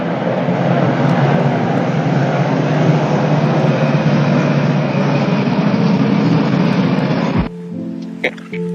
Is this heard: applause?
no